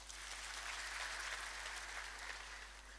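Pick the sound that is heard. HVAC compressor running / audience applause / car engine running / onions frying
audience applause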